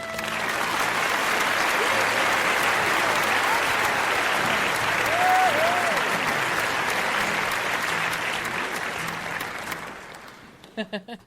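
A studio audience breaks into loud, sustained applause with whooping cheers and a few voices calling out, the clapping fading to scattered claps at the end.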